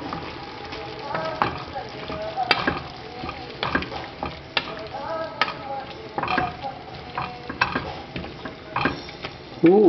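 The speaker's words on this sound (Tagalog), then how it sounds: "Ngayon, haluin natin." Chicken curry being stirred in a pan, with a steady scraping of a spoon over a constant sizzle and occasional louder knocks against the pan.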